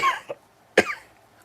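A person coughs twice, the first cough brief and the second louder and harsher, close up in a quiet room.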